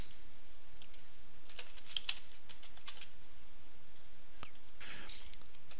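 Typing on a computer keyboard, with scattered bursts of key clicks over a steady background hiss, close and fairly faint, no talking.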